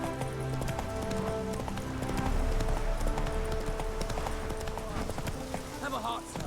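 A horse gallops in The Witcher 3, with rapid rhythmic hoofbeats clip-clopping steadily throughout, mixed with game music and a voice speaking over the action.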